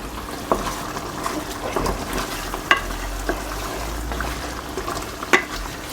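Chicken curry being stirred in a pan, with a steady sizzle and scattered scraping clicks from the spoon over about six seconds and no talking.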